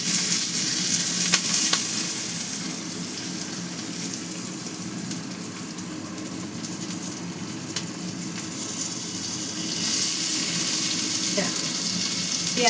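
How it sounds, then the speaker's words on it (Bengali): Chopped onions frying in a pan, a steady loud sizzle with scattered stirring clicks and a watery hiss running underneath. "পেঁয়াজটা একটু ভাজাবো"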